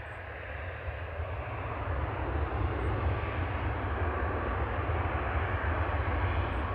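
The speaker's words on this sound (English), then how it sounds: "Ryanair from Faro touching down" A Ryanair jet arriving from Faro touches down at Manchester Airport, its engine roar a steady, loud broadband rumble that builds slightly and holds throughout, with no voices.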